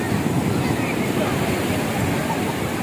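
Ocean waves breaking on a beach in Pondicherry, a steady broadband wash of surf with wind rumble, close and continuous throughout.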